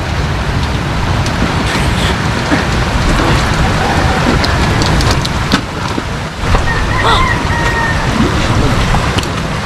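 Heavy rain pours down steadily during flooding, a dense hiss of drops hammering a surface, with brief faint voices and occasional knocks underneath.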